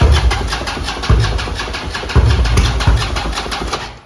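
Engine of a 2014 Harley-Davidson CVO motorcycle running with a fuel pump on and a non-original tank, a steady close rumble with a rhythmic pulsing beat throughout, heard alone.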